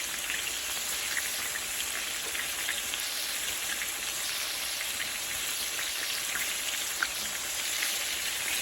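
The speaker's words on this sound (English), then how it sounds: "I'm just going to let it fry for about 2 to 3 more minutes" Burger patties with cheese frying in a pan on a home stove, a steady, close, hissing sizzle with fine crackling pops, continuous and fairly loud with no talk over it.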